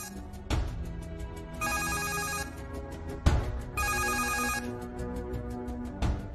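A telephone ringtone rings in repeated bursts, with two long electronic trills separated by sharp clicks, moderately loud and with no one talking.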